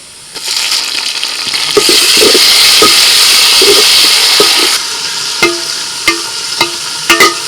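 Tomatoes tipped into onions frying in a pot set off a loud, continuous sizzle that eases after a few seconds, followed by scattered clicks and scrapes of stirring.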